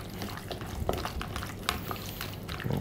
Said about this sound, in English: So let's just go in with a little bit of olive oil. There we go. Mix those all around.